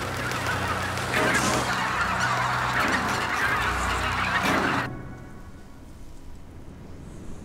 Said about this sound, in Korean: 마침내 공격을 개시하자 기러기들이 일제히 날아오른다